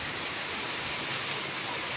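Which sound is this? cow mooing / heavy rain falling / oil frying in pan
heavy rain falling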